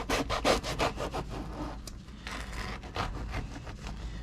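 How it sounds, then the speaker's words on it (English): A knife saws through a loaf of fresh French bread, with rhythmic rasping strokes that come in quick bursts at first and then slow, close and fairly quiet, with no speech. "the last thing I'm going to do is cut up this this fresh French bread"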